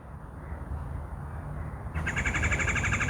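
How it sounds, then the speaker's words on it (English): Birds sing outdoors beside a wooded creek, faint at first, then a clear, high, repeated chirping phrase enters about halfway through and continues over a steady low background rumble. "Listen to the birds."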